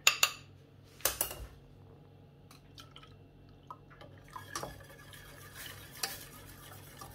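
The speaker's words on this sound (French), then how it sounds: "Allez, on mélange à nouveau" A spoon stirs thick pastry cream thickened with diluted cornstarch in a pot for a Basque cake, giving soft scraping strokes and a few sharper clinks against the pot, quiet and close with no talking.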